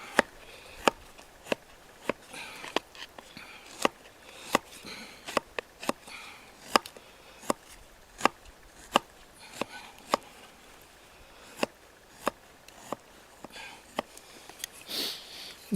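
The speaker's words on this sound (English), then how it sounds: "Knives are not major chopping tools, but yeah, it chops okay." A Russell Grohmann #4 survival knife chopping a wooden stake outdoors, with about two dozen sharp, close wooden thunks in an uneven rhythm, some quick doubles, over quiet background.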